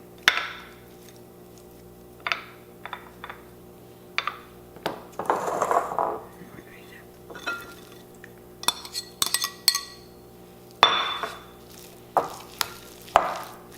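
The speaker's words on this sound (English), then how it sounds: "Now we just want to make sure we get it mixed into the batter." A spoon stirs Spam and onions into hush puppy batter in a bowl, making irregular scraping and clinking strokes, with short bursts separated by quiet pauses and no talk.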